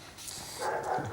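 Dogs barking during a comedian's solo stage show, a few short yips and barks at moderate distance, rising in the second half with a whimpering edge, no talk over them.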